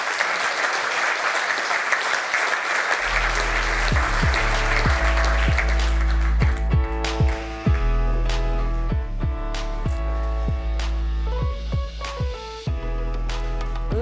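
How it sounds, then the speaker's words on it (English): Audience applause after a panel discussion at a biopharma research platform launch, a full, loud round of clapping for about five seconds that fades as upbeat music with a heavy bass beat rises and takes over. "Give them a warm round of applause."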